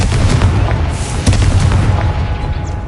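A Confringo fire spell explodes in Hogwarts Legacy, a loud booming blast that keeps a dense rumbling roar going for a few seconds, with a sharper burst partway through.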